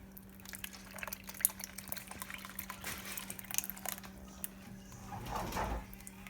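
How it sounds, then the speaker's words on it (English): Thick brownie frosting pours and drips, with soft splashy bursts over a steady low electrical hum, loudest near the end. "So just gotta pour this frosting."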